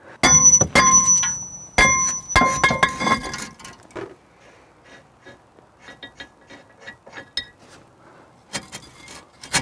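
Sharp metallic clanks ring out in quick clusters as a hammer strikes a front brake disc on a BMW E90 325i, followed by quieter scattered taps.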